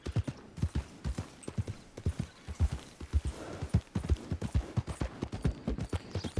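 Horse hooves clip-clop steadily in a Western roleplay game, a brisk rhythmic trot of distinct thuds at moderate distance, heard alone without talk.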